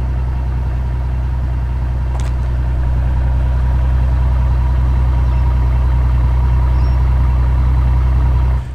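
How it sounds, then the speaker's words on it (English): A Mercedes-Benz CL65 AMG V12 idles close by, a deep steady engine rumble with a strong low hum that holds evenly for several seconds before easing off at the very end. "give you a taste of the amazing sound that this car makes and its amazing performance as well"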